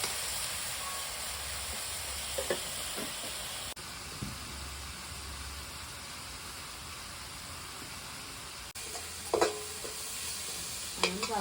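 Onions fry in a pan as they turn translucent, giving a continuous close sizzle with occasional stirring clinks and scrapes, no voices.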